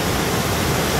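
A waterfall on the Amarawati River roars as a steady, dense wash of broadband rushing water. It is loud and continuous, with no voices.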